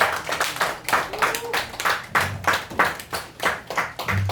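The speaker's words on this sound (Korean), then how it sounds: "우리 박수로 환영해 주시기 바랍니다" A crowd claps steadily for several seconds, a dense patter of many hands at moderate volume, with no talking over it.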